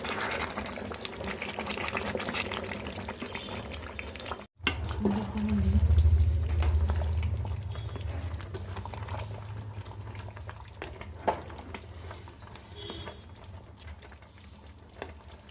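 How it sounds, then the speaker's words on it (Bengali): Goat meat with papaya braises in a pan with a steady bubbling sizzle, cutting out briefly before swelling louder for a few seconds and then settling into a softer simmer. "আমাদের মাংস এখন এই পর্যায়ে কষছে।"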